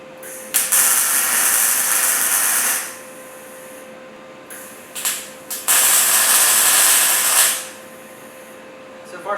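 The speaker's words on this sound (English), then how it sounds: "first weld with the new MIG 180" A new MIG 180 welder lays down welds on a Crown Vic-swapped Ford F100, loud crackling hiss in two long bursts of a few seconds each, with a quiet pause between them and a steady tonal hum underneath.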